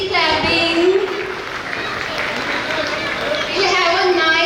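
School audience clapping during a prize felicitation at a school gathering, a steady dense wash of applause throughout with children's voices and a speaker heard over it.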